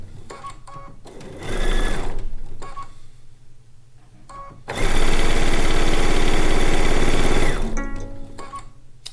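A sewing machine stitching quilt strips runs in loud, rapid mechanical bursts, a short run first, then a longer steady stretch of stitching, heard close with small clicks and handling noises between bursts.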